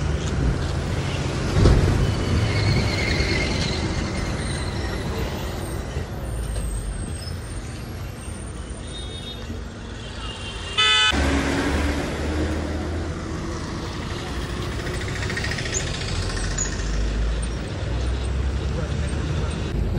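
A passenger bus on the Dapoli to Mumbai route pulls into Mangaon with engine rumble, traffic noise and a sharp air-brake hiss partway through, while people talk nearby.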